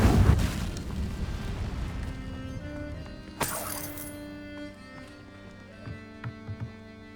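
A fire spell cast in Hogwarts Legacy bursts with a sharp, loud blast that trails into a low rumbling game soundscape, after a dense, noisy opening and before a few smaller pops near the end.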